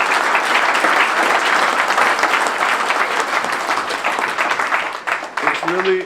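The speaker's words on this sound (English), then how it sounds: "So I'd like to give them a big round of applause for all of our players." Dense, sustained audience applause fills a youth rugby presentation ceremony, a loud continuous crackle of many hands clapping for the players that thins slightly at the close.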